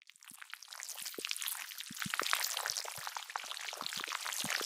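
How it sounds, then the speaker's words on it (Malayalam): Juice from a squeezed lemon trickles and splashes into a homemade nannari sarbath drink, a close, continuous patter of small drips and pouring lasting a few seconds, with no talking. "ഇനി നമുക്കൊരു നാരങ്ങ മുടി പിഴിഞ്ഞൊഴിക്കാം"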